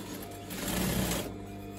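A sewing machine stitches the hem of a velvet coat sleeve in a short, close, rapid whirring burst that swells and then eases off.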